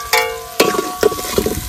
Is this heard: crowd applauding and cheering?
no